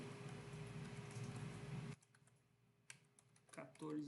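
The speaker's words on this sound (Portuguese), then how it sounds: "Eu vou digitar aqui 192, 168" Quick bursts of keystrokes come from a computer keyboard as an IP address is entered, close and clicky at first, then sparser taps. Someone talks over and between them.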